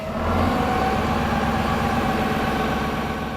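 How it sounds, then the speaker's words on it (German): A tractor engine recorded for Farming Simulator 17 runs steadily at close range, a continuous low, throbbing drone with a faint shift in pitch early on, and no talk. "ich habe jetzt meinen Operator, den Markus, unseren Assistenten, auf den Schlepper platziert und der wird jetzt die verschiedenen Drehzahlstufen durchgehen"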